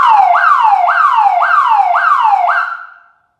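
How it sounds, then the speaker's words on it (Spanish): Single-tone siren on a Ranger 909 LED light bar fitted to a new pickup truck, five loud rising whoops in a steady repeating rhythm, close and powerful, ending abruptly. "El equipo posee una sirena de un tono."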